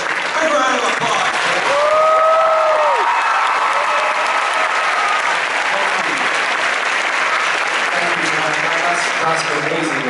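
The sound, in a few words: comic con panel audience applause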